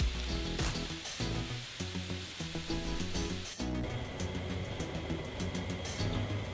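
Longanisa sausage links sizzle steadily in a frying pan, a dense, continuous crackle and spatter heard close up with no talk over it.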